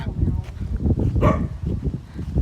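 A dog barks in short bursts on a trip to Ubon Ratchathani, Thailand, its yelps mixed into steady outdoor rumble and wind, with one sharper, louder bark midway.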